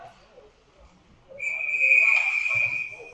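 A referee's whistle blows at an ice hockey game, one sustained shrill blast under crowd and arena noise.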